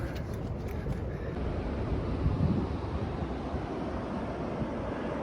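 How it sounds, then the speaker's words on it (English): A Yellowstone waterfall gives a steady, broadband roar with a constant low rush and no distinct events, heard at a distance. "There's the waterfall."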